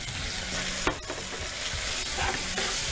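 Tuna is stirred together with vegetables and mayonnaise, giving a steady soft scraping and mixing over continuous noise, with one sharper knock near the middle.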